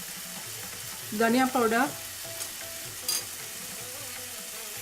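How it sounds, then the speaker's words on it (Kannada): Spice powders including coriander, cumin and red chilli powder fry gently in oil over a low flame for an Aloo Tikki burger, a soft steady sizzle with a short burst of speech over it and faint clinks. "ಈ ಪುಡಿಗಳನ್ನು, ಮಸಾಲೆ ಪುಡಿಗಳನ್ನು ಸ್ವಲ್ಪ ಫ್ರೈ ಮಾಡ್ಕೋಬೇಕು ಕಮ್ಮಿ ಉರಿನಲ್ಲಿ"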